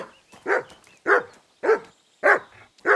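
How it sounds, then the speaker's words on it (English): A dog in the medieval world of Kingdom Come: Deliverance II barks five times in a regular rhythm, each bark loud, close and clear with short quiet gaps between. "You silly doggy."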